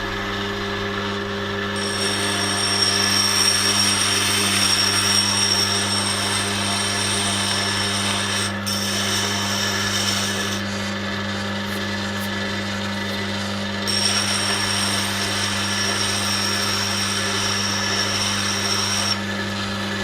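A Tormek wet grinder with a hard Blackstone wheel sharpens a carving chisel, giving a steady, close motor hum with a low drone while the steel rubs and scrapes on the stone in longer passes.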